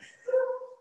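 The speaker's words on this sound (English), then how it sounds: "Now we're having a barking party again." A dog gives a single short yelping bark with a whiny tone during an indoor talk on trauma healing, fairly faint and heard alone.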